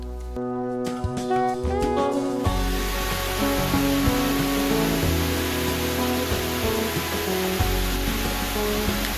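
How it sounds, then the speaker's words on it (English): Ramona Falls in Oregon, a small creek spreading over a tall stair-step cliff, gives a steady broad rushing roar of falling water, continuous and fairly loud after a brief faint, tonal opening. "the sounds of Ramona Falls will lure you in"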